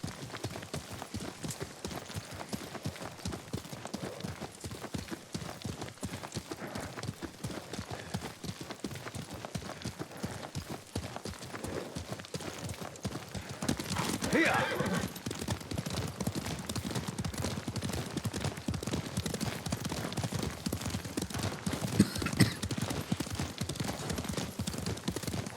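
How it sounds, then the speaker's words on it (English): Horse hooves clip-clop at a steady trot during riding in the Ghost of Tsushima video game, a constant rhythmic patter under occasional voices, with a possible faint whinny. "Lord Sakai taught me to ride a horse."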